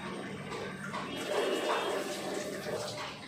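Rice and lentils being rinsed in water for khichdi, a steady splashing and running-water wash close by with no talk over it.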